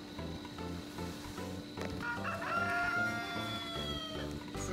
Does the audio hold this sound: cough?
no